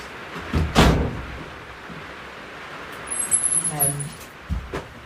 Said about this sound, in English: we're going to shut the cabin door so we don't get soaked